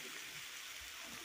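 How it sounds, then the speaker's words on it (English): Water from a bottle pouring steadily into a pot of potato soup, a continuous, fairly quiet rushing splash. "I'm going to add a bottle of water to this. I'm just going to pour that in"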